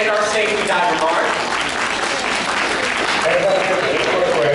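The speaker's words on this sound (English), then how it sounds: "let's give a big round of applause for Diver Eric and our safety diver, Mark." An audience at a Newport Aquarium dive show claps steadily in warm applause, a dense patter lasting several seconds, fairly close, with a voice speaking over it.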